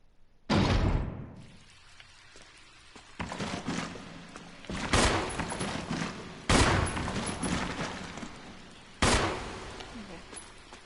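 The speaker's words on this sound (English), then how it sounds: "I don't like shooting the sharks" Gunfire from shooting sharks in the video game Resident Evil HD: five loud, sharp shots spaced a second or two apart, each ringing out in a short echoing tail before the next.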